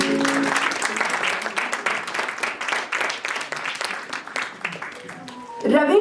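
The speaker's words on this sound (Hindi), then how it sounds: "एक बार फिर हम तालियां बजाना चाहते हैं सबके लिए।" Audience applause fills the hall at a centenary jubilee event at the IHC, a steady wash of many hands clapping together, fairly loud and sustained before a brief voice and shift near the end.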